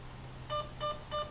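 Three short, evenly spaced electronic beeps, high and clean, from an airsoft M4 control unit cycling modes, sound over a faint low hum.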